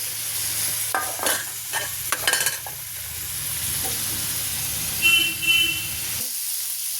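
Dhoka lentil cakes are stir-fried with tomato, cumin, ginger, salt and turmeric, giving a soft sizzle broken by repeated scraping stirs in the pan. The sizzle cuts off abruptly near the end.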